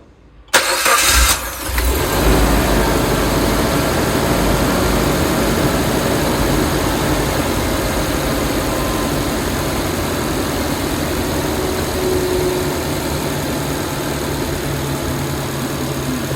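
A Suzuki Jimny engine starts and settles into a loud, steady idle, the rough engine drone running continuously with the revs easing down slightly over time.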